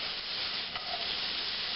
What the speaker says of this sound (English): Get those sautéing real nice.